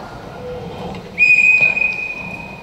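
A train whistle sound effect in a children's choir Christmas Eve church play: after low rumbling background noise, a single clear, high whistle sounds and holds steadily for over a second.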